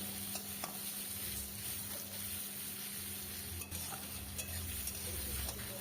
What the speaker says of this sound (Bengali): পেঁয়াজটা সবসময় একটু ভালো করে ভেজে নিতে হবে